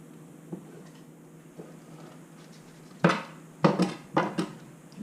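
A knife slices beef for jerky on a board, starting with faint soft cuts, then several louder close strokes in quick succession, each a short scraping thud, in a quiet kitchen.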